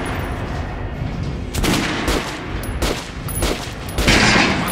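Gunfire at a target dummy on a range in Metro Last Light Redux, several loud, close shots spaced about a second apart, each a sharp crack with a brief rumbling tail.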